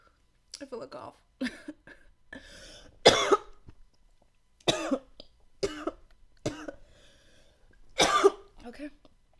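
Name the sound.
cough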